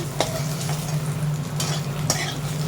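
Spiny gourd sizzles steadily in hot oil in a pan, with a few brief scrapes and taps from a utensil stirring it.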